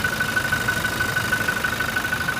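A steady 2018 Toyota Innova Venturer 2.4 automatic engine idles close by, a continuous low rumble with a constant hum and no voices over it.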